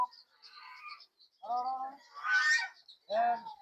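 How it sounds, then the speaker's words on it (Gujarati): Geese on a dairy farm honk in several separate calls, some short and some longer and harsher, with silent gaps between them. "જો હંસ બોલાવે છે ને હંસ દોડીને આવી બતાવજો તમને"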